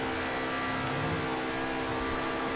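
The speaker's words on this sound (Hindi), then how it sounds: "देख लो भाई गाड़ी की आवाज़ क्या ब्यूटीफुल आ रही है, एकदम प्यारी सी साउंड" A car engine drones steadily and evenly at low level as it drives along a road, with a sustained hum and no voices.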